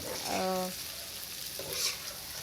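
Okra masala being stirred into hot oil in a pan for a fried bhindi dish, giving a soft sizzle with a brief scraping stir and a faint vocal sound partway through.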